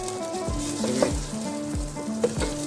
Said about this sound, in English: Allow this to simmer for 3 minutes, and then I add my tomato.